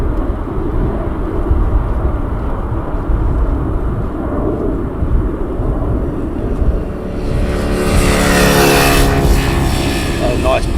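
A Boeing 747 climbing out after takeoff from Amsterdam Schiphol: a loud, steady jet roar that swells near the end with a rising whine, close and sustained, with brief talk over it.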